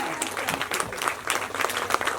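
Audience applause at a performance event: a short, dense, continuous burst of clapping from a crowd, fairly close and loud.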